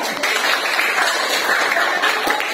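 Students in a classroom applaud a classmate, a dense wash of clapping from many hands that holds steady throughout, close and without speech.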